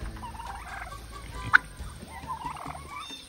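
Turkeys on a farm in northern Maine gobble in short bursts, with one sharper call rising above the flock's chatter, moderately close over a quiet outdoor background.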